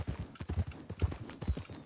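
Horse hooves clip-clop in RedM, a quick, even run of dull thuds on a dirt road, close and moderately loud, with faint background hiss.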